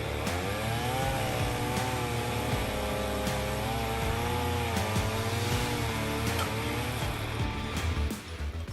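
A G70 chainsaw with a 105.7 engine cuts through hardwood logs, its engine holding a loud, steady whine throughout with slight pitch wavering as the bar bites into the wood.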